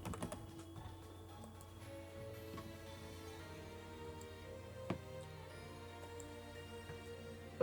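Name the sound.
typing on a computer keyboard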